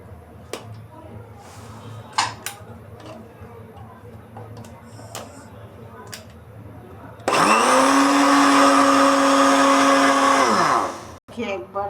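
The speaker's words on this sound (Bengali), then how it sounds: "এটাকে দিয়ে একটু 5 মিনিটের মতো ব্লেন্ড করতে হবে।" An electric blender whirs loudly at steady speed for about four seconds, blending vinegar, salt, lemon juice, white pepper, sugar and oil into mayonnaise, after quieter kitchen clicks and taps, then cuts off abruptly.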